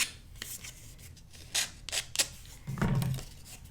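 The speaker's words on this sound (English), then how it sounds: "I'm just checking the edge to see if it needs any sanding with our nail file" Soft scraping strokes of a nail file rubbing against a paper album edge, a few short rasps spaced apart, close and quiet.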